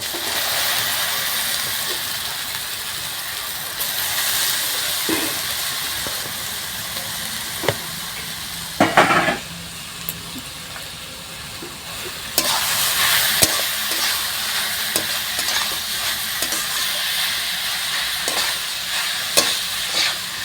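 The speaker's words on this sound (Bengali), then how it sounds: "রসুনটা একটু ভাজা হয়ে গেছে, এবারে আমি যে ধুয়ে রেখেছিলাম কচুটা দিয়ে দেবো।" Washed raw taro drops into a pan of fried garlic and crackles in a steady, bright sizzle, with a sharper splattering burst midway and stirring scrapes throughout.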